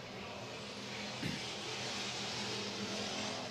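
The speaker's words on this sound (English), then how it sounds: "as they're getting ready to see the white flag as they go around turn 4." Pure stock race cars circle a short oval track near the last lap, their engines a steady, continuous roar throughout with a brief louder swell as cars pass.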